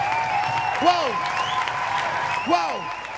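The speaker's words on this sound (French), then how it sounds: "On va les accompagner avec des acclamations pour sortir du ring." A crowd at a French wrestling (catch) show applauds and cheers a wrestler leaving the ring, with steady loud clapping and two shouted cheers rising above it.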